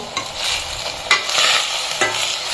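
Fried fish is added to a night jasmine flower curry, an Assamese dish, and stirred in the pan, with a close, continuous scraping and bubbling sizzle broken by a few sharper spoon knocks.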